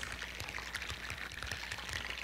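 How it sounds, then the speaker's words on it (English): Air bubbles burst out of melting glacier ice into water, a dense, faint crackle of countless tiny pops and fizzes running continuously, much like bacon frying. "each of those pops that you hear is a bubble exploding out of the ice into the water"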